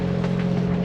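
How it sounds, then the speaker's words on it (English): A sailboat's inboard engine drones steadily while motoring straight into waves off Dublin Bay, a constant low hum with faint rushing water and wind, no voices. "You'll hear we've got the engine on"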